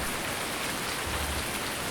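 Steady rain hisses continuously across a Farming Simulator 19 field, a dense even patter with no breaks, thunder or voices.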